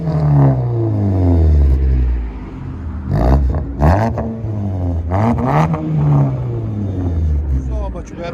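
Loud, throaty exhaust from a 2014 Ford Fusion SE 2.5L with a muffler delete as it backs up, a deep rumbling drone with rising and falling revs and a few sharper bursts, heard up close throughout.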